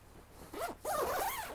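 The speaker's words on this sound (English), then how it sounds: "I'll close this up. So you see that Velcro there. Again, very heavy duty zippers." A heavy-duty zipper on an Otter Vortex Pro Lodge ice-fishing shelter is pulled shut in two close, rasping strokes, the second longer and steady, loud and near with no talk.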